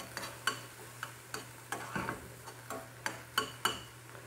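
Onions cook in a pan under a faint sizzle while a utensil taps and scrapes against it in a string of distinct clicks, quiet and close, with a low steady hum behind.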